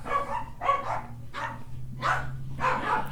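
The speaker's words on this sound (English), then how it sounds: "The barking don't stop around here, does it?" Corgis barking indoors, five sharp, loud barks in a fairly even rhythm close by, with no talking.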